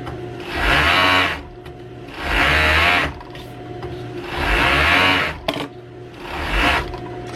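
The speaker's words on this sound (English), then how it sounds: "I want to serge around it first. This will stop it from fraying." A serger overlocks the edge of easily fraying dress fabric, running in four loud bursts of steady high-speed stitching separated by short pauses, close up with no talk.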